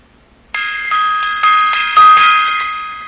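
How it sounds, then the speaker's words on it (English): A struck gong or bell rings out in a live solo, several loud metallic hits in a steady rhythm, each strike layering bright sustained shimmering overtones over the last. "So, for that is like a gong solo right there"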